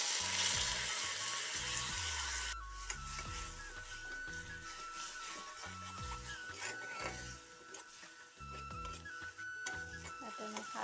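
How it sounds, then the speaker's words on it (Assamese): Khar, an alkaline liquid, hits a hot pan in an Assamese fish curry, giving a close, steady sizzle and frying hiss, with a voice talking over it and music underneath. "ইয়াতে মই খাৰখিনি ঢালি দিছোঁ।"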